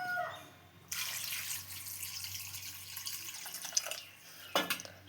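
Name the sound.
pouring water to wash chicken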